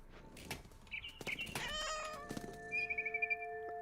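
A cat meows in the video game What Remains of Edith Finch: several clear, close meows, some drawn out and tonal, followed by a rapid run of short chirping cries near the end.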